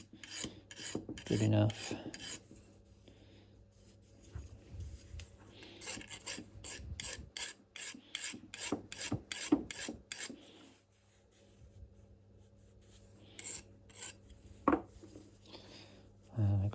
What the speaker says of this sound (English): probably not the best file for the job